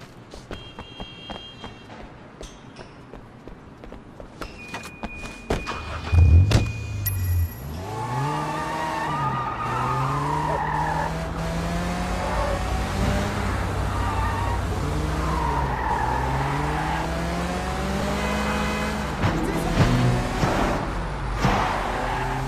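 A race car in the video game Sleeping Dogs revs and roars through gear shifts, with engine whines rising and falling and tires screeching in skids, loud and sustained after a quieter start.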